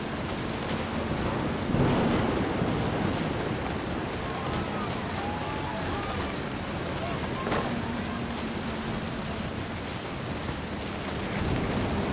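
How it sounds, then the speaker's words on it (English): Steady rain with low rumbles of thunder rolling beneath, a few distant tonal sweeps drifting through the storm ambience, in the video game What Remains of Edith Finch. "The thunder sounded much too close and full of angry power."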